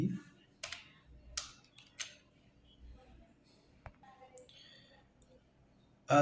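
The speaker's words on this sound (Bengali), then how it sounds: "এখানে আমি টাইপ করতেছি" Clicks and taps of typing on a computer keyboard come in scattered bursts with pauses between them, close and fairly quiet.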